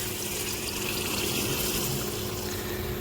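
Water is poured steadily into soaked rice for paneer biryani, a continuous close rushing splash that holds at an even level without letting up.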